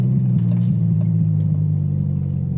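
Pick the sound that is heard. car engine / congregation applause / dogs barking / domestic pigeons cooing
car engine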